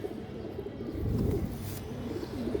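Soft, low pigeon cooing repeats in short rolling phrases against a faint background hum, with no talking.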